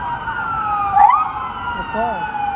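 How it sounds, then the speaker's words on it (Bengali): An ambulance siren wails and wavers after a fatal road accident in Malaysia as the vehicle pulls away. Rising and falling tones sound over a low traffic hum, with a brief louder sweep in the middle. "ওই যে গাইস, অ্যাম্বুলেন্সটা চলে যেতেছে।"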